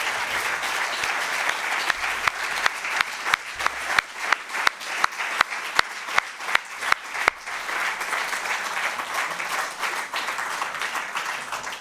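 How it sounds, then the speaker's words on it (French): Warm audience applause for three invited guests at a political festival event, a dense sustained clapping crowd with distinct sharp individual claps punctuating it over roughly twelve seconds. "je voudrais vous inviter, avant d'entendre Gilles Rocotte, à applaudir chaleureusement nos 3 invités"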